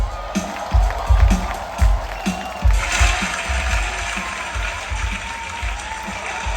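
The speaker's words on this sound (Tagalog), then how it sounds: "Sampung palakpak para kay Senator Marcoleta." A crowd claps loudly and continuously at a political rally for a senator, a dense wash of applause with some heavier thumps underneath.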